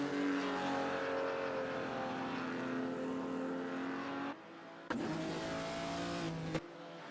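Engine drone from a 1950s Formula 2 race car in a racing video game, a steady loud revving tone that shifts pitch, then abruptly cuts and returns as another car comes by, with no talking.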